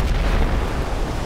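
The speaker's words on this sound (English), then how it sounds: "The whole bridge just got annihilated" A huge explosion destroying a bridge in a military video game, a loud deep rumbling boom that fills the moment and rolls on without pause.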